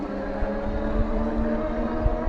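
Steady motor whine and tire rumble from a Snapcycle S1 fat tire folding e-bike riding at pedal assist level 2, about 10 mph; a continuous, close, even drone with faint road bumps and no talk.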